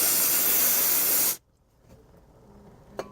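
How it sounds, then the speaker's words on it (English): Brake cleaner sprayed from an aerosol can onto a new oil filter during an oil change on a Ford F-150 3.5L EcoBoost: one loud, steady hiss lasting over a second that cuts off sharply, followed by quiet room sound and a faint click. "Before you put the new filter on, go ahead and give it a spray with some brake cleaner."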